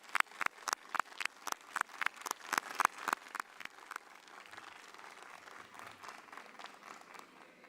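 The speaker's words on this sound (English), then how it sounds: "I will ask the faculty to stand and applaud the graduates." Faculty applauding graduates at the Henry Ford College 2024 commencement: sharp, evenly spaced claps up front for about four seconds, then a softer, denser patter of clapping across the hall.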